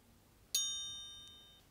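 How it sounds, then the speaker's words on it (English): A single bright metallic strike from the hammer chime of a Christopher Ward Bel Canto watch rings out clear and close, its pure tones decaying slowly over a quiet background. "So Terry, shall we make it chime?"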